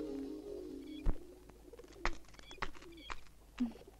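Pigeon cooing, soft repeated low coos with faint chirps and scattered clicks in a quiet outdoor setting from a Tamil film scene.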